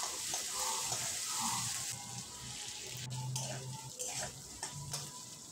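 Chopped onions and carrots fry in a pan for egg pasta, a soft steady sizzle with occasional stirring scrapes, fairly faint and without talk.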